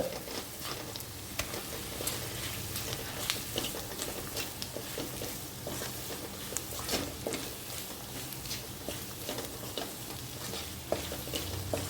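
Paneer and minced chicken sauté in a pan with a quiet, steady sizzle, broken by frequent spatula scrapes and light clicks as the mixture is stirred, no voices present.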